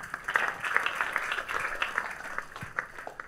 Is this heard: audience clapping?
yes